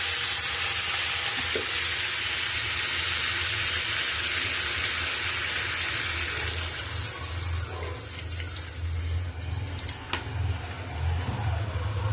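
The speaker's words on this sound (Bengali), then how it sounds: "এবার জল দিয়ে দেবো, পরিমাণ মতন জল।" Water added to a pan of hot oil and spices for a Bengali tengra fish curry with cauliflower, hissing into a broad, steady sizzle that holds loud and close for the whole stretch, with faint clinks near the end.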